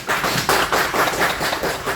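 Audience clapping at a STRONG club meeting in Kalasin province, a steady burst of close, dense hand claps with a rhythmic pulse and no talk over it.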